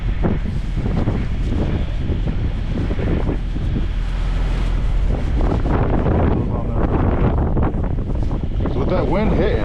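Strong wind blows outdoors in icy weather, roaring and buffeting hard against the microphone in loud, uneven gusts for the whole stretch.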